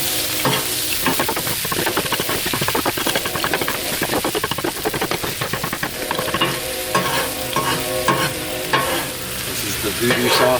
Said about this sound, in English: I'm going to toss my pork in it, coat it in